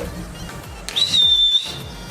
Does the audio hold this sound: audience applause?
no